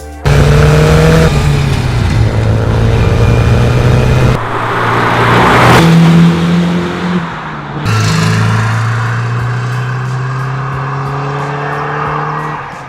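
A 1988 Porsche 944 Turbo engine in the racing game Need for Speed: Porsche Unleashed revs loud and close, holding steady tones that climb and drop through gear changes, with a brief tire squeal mid-run.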